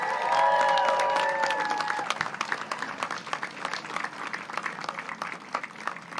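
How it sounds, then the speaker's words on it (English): A rally crowd claps and cheers for law enforcement officers and veterans at an education rally in Loudoun, with dense applause that starts loud and slowly thins, plus scattered whoops over the top. "Let's give them a round of applause."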